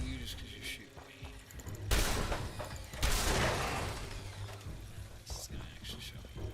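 Gunfire in the video game Fallout 76: two heavy, close bursts about a second apart, each trailing off into a rumbling decay over quieter ambient game noise.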